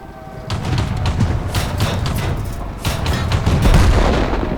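Tank cannons fire in the World of Tanks video game, with heavy booming shots and rumbling low-end blasts in quick succession, loud and continuous with a big thump near the end.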